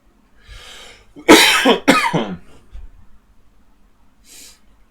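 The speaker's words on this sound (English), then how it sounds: "The wonders of the dry cough." Two sharp, dry coughs ring out close by, with soft breathing before and after.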